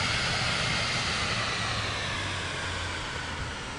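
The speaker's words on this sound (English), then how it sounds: "I think I hit the reversers on the throttle." An airliner's thrust reversers engaged in the video game Microsoft Flight Simulator 2024, a loud, steady rushing engine roar that holds evenly and eases off slightly toward the end, with no voices.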